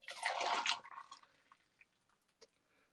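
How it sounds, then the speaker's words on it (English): Avocado tea poured into a jug over a kitchen sink: a loud, splashing stream of liquid for under a second, then tapering into scattered drips and small splashes, close and alone. "I'm going to pour this into a jug first"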